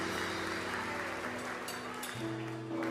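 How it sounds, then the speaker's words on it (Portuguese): A church congregation applauds during a worship service, with dense, continuous clapping and steady sustained organ-like tones running underneath. "Vamos aplaudir Jesus, meu irmão"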